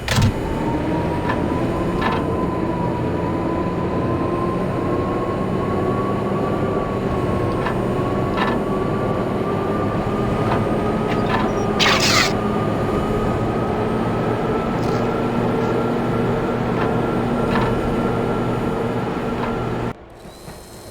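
A train powering up in the video game Max Payne, with a steady mechanical drone and whine, a rising tone, scattered ratcheting clicks and a brief burst of noise midway before it cuts off near the end.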